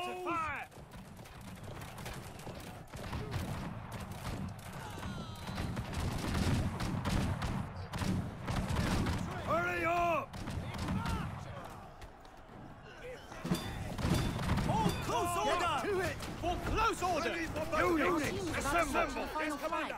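Massed troop volley fire in the medieval siege game Conqueror's Blade, a dense crackle of many shots amid the clatter and shouting of a large battle, with commanding voices calling out over it.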